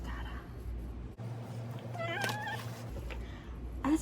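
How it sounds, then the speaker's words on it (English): A cat meows once, a short clear rising-and-falling call in the middle, over a low steady room hum with faint background noise. "And a cat has joined me."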